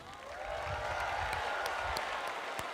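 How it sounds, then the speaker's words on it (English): A crowd of scouts at a national jamboree gives a round of applause, a steady wash of clapping and cheering from a large outdoor audience, moderately distant. "Everybody give a round of applause to Connor"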